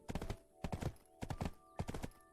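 Horse hooves clip-clop in the video game Black Desert Online, three quick bursts of several hoofbeats each, close and moderately loud with no talk.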